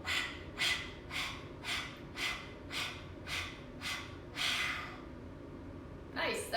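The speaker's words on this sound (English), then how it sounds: "we're gonna stick out our tongues and we're gonna breathe panting like a dog" A yoga class pants through open mouths like dogs, eight or nine deep, evenly spaced breathy bursts in a steady rhythm, fairly close and moderately loud, ending with a sharper gasp.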